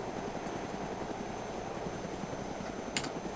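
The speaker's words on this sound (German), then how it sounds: "ist das der Heli, der vorher weggeflogen ist" A helicopter flies in the survival video game DayZ, a steady low rotor drone holding throughout with a brief sharper click near the end.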